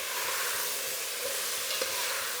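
Chopped vegetables with a little turmeric frying in a pot for sambar, a dense close hiss of sizzling with soft low stirring strokes and a light clink near the end.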